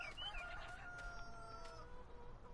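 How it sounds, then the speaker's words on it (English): Chickens in a Farming Simulator 19 farm calling briefly, a short rooster-like crow and a few clucks over a quiet game background. "Chickens, do y'all have plenty of feed?"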